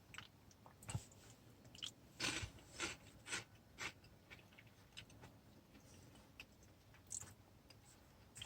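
Crunchy pumpkin spice flavored corn snack being chewed up close, a series of crisp bites and crunches in uneven bursts with short pauses, quiet overall and without talk.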